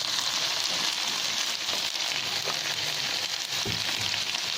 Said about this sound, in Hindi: इनको सिर्फ सोते करना है,